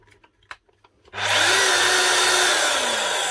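Makita HR3210FCT hammer drill running in rotary hammer mode, starting abruptly after a few light handling clicks and then holding a loud, steady, rattling whine that keeps going to the end.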